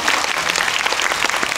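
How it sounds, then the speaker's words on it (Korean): An audience at a film screening Q&A claps loudly and steadily, a dense even wash of applause with no voices over it. "가시는 길에도 뜨거운 박수로"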